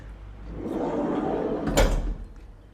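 The sliding side door of a wheelchair accessible van rolls along its track with a low rumbling slide that builds, then thuds shut with a short loud knock near the end, heard alone without talk.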